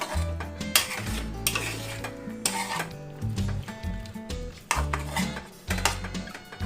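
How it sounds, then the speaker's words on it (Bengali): Chicken and beans stirred in a single pot for an Anglo-Indian chicken pishpash, with a utensil scraping and clinking against the metal in repeated close strokes over a steady sizzle, no talk. "চিকেনটা দিয়েও একটু নেড়ে দিলাম, দিয়ে এবার আমি বিনসটাও দিয়ে দিচ্ছি।"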